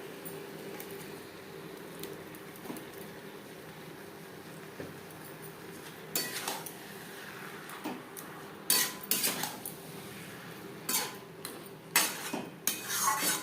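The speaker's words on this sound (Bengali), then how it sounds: "মশলার সাথে বাঁধাকপি বেশ ভালো করে মিক্সড করে দেবো" A spoon stirs cabbage with spices in a pan for a Bengali cabbage curry, with quiet scraping at first, then sharper metallic clinks and scrapes arriving in irregular bursts toward the end.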